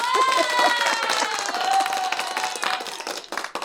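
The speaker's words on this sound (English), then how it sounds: "I know there's like an applause somewhere in here." Clapping and crowd applause from a played video, a dense steady patter with tonal music or voices layered through it, holding at moderate level across the clip.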